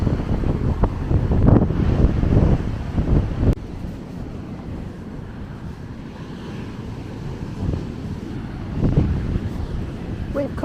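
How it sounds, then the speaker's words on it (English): Strong wind buffets the microphone in a constant roar on a choppy beach in East Yorkshire, with surf washing in the background and brief bursts of talking at the start. "sorry if it's windy, it's really choppy."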